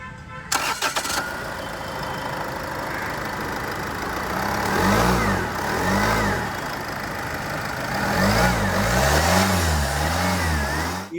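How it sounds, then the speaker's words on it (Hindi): A Land Rover Freelander 2 TD4 diesel SUV engine cranks and catches, settles into a rough idle, then revs up several times in rising and falling bursts, close by. "एक बार सेल्फ मार के आपको दिखाता हूँ, इंजन की साउंड आपको सुनाता हूँ"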